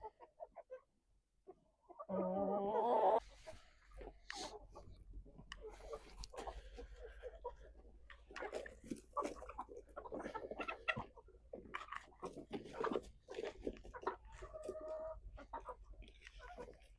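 Hens being fed vitamin feed cluck and coo softly, with a brief louder burst of clucking near the start, then scattered pecking and quiet fowl sounds under light background noise.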